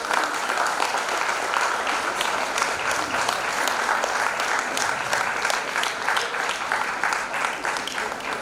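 Steady, dense applause from an audience at an awards ceremony honouring inspiring women, loud and sustained throughout with no break.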